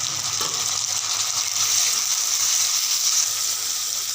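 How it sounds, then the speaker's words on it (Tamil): Onions and tomato sautéing in a pan for cauliflower kurma give a steady, close sizzle with a bright hiss that holds level and runs without pause, and no one speaks over it. "வெங்காயம் நல்லா வதங்கிட்டோம். தக்காளி போட்டுக்கோம்."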